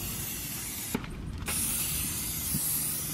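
Water spray rinsing wheel cleaner off the wheel of a Duramax truck after mudding, a steady close hiss broken by a brief pause, then a louder continuous spray.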